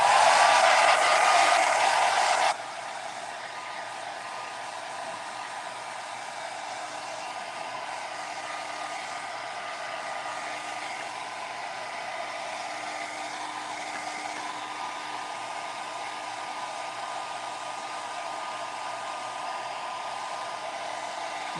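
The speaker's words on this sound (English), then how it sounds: "So let's hit it with the hairdryer once again." A hair dryer blows steadily at close range, drying matte sealer over a Venetian plaster aged-oak finish; a brief louder burst at the start settles into a constant whooshing hum with no talk.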